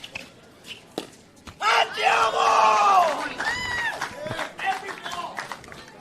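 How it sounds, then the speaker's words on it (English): Spectators at a professional pickleball match break into loud cheering and shouting after a point, a swell of voices that rises sharply, holds for a few seconds, then fades into scattered calls and murmurs. "I heard an Andiamo out of the crowd in response to one of his."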